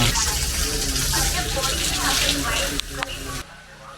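Steady rushing water flows continuously from a spring at Hiranyakeshi Temple, Amboli, with a broad hiss, loud and close, quieting abruptly near the end.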